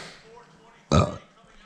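A single loud, low burp erupts abruptly and lasts about a quarter second, standing out against a quiet, murmuring background during a basketball game broadcast.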